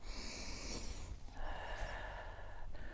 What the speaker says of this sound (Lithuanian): Ir kvėpavimas lengvas.